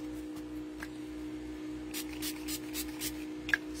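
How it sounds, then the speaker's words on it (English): Several short hissing bursts of a mist spray bottle cleaning rubber stamps at a card-making table, close by over a steady low hum. "Spray some mist,"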